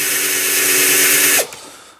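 A power drill drilling thin steel on a vintage mini tractor whines steadily and loudly for over a second, then cuts off abruptly and winds down into quiet.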